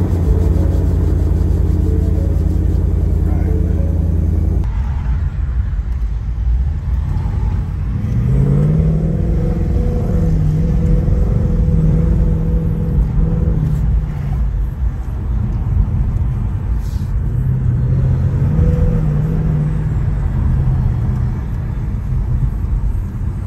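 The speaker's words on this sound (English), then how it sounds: "I should probably have mentioned that we're driving this Mustang." A Ford Mustang GT engine rumbles steadily, heard from inside the car on city streets in Medellin, Colombia. It rises and falls as the car accelerates and shifts, loud and continuous.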